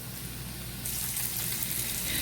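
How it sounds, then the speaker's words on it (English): Bacon and onions frying in a pan for a homemade Chinese dish, a steady soft sizzle that grows brighter and hissier partway through, close and continuous with no talking. "I've got the onions and bacon cooking"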